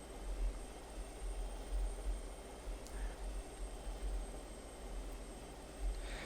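Steady, low engine roar of a jet aircraft in flight in Just Cause 2, a continuous even drone without breaks, moderately loud.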